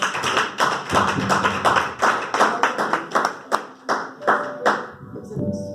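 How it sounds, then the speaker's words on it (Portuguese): Congregation clapping in a church, loud rhythmic unison hand claps in a steady beat that loosen and thin out toward the end, with a voice briefly audible at the close. "as palmas louvam ao Senhor Jesus"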